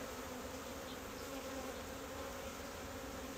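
Honey bees buzz in a steady, dense drone around an opened beehive during a winter inspection, continuous and moderately loud with no talking.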